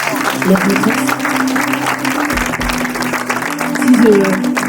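A church audience applauds and cheers, with the clapping sustained across the moment and voices rising over it.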